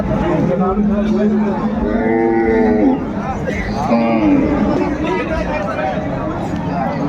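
Cows at a rural cattle market for dairy cows with calves, with a drawn-out moo and a second shorter call amid crowd chatter and people talking nearby.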